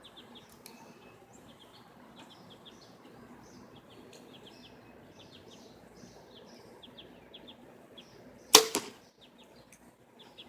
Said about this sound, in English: A little noisy during flight, but you get that from, you get a little wind noise from them, from fixed heads.